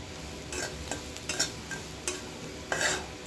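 Spoon stirring chickpeas with turmeric and spices frying in a pan at home, a few scraping strokes and faint sizzle, moderately quiet and close, with no talking.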